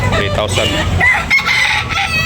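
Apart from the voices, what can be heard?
rooster crowing at a chicken market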